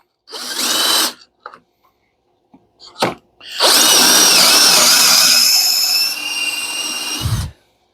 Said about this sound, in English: All right, so we'll just drill the 3rd one.